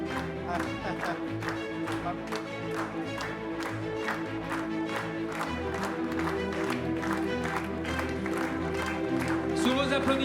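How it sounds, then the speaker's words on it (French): Audience at the official presentation of Golden Globe Race sailing skippers clapping loudly, with some rhythmic claps and cheering, while music plays and voices are heard underneath. "Sous vos applaudissements, là encore"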